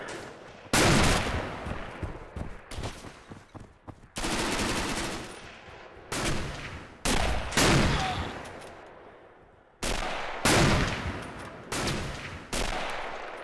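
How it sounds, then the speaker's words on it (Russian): Artillery barrage in the Carpathian Crosses video game: a series of about six loud, booming blasts at irregular intervals, each followed by a long rolling decay, with no talking. "Артобстрел!"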